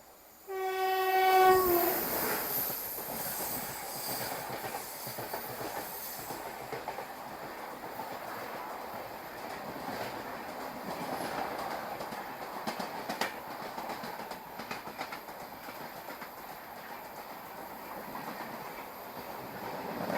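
Venad Express passenger train sounds a loud horn blast at the start, then a steady rumble and rhythmic wheel clatter carries on for a long stretch.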